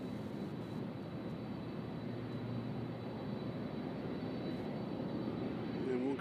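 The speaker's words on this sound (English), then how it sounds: "So our next departure on 35 left should be about to roll." A jet aircraft begins its takeoff roll on runway 35 left at Louisville's UPS World Port, a steady broad engine roar at moderate distance that holds evenly and swells slightly at the end, with faint talk over it.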